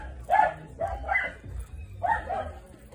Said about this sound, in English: the dog started growling and trying to bite Dixie.